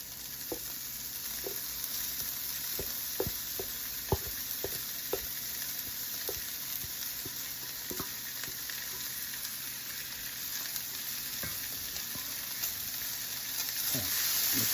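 Ground beef fries with softened vegetables for American chop suey, a soft continuous sizzle in a pan broken by occasional sharp spoon taps and scrapes, swelling slightly near the end.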